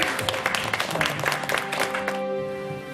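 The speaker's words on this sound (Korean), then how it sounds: "박수 한번 주세요." A studio audience breaks into brisk, dense clapping for about two seconds, then fades out, leaving a soft lingering musical tone.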